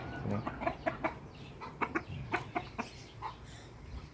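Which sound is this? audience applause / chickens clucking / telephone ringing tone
chickens clucking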